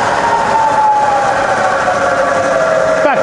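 A Bridgeport Vari Speed milling machine spindle runs at 120 RPM in low range. It gives a steady, close mechanical whine with a slowly drifting pitch over a constant broadband hum.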